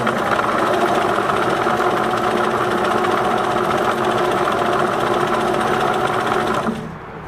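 A Singer Merritt 2404 sewing machine runs steadily at close range stitching a zigzag, a continuous loud whirring and rapid needle clatter that stops abruptly near the end.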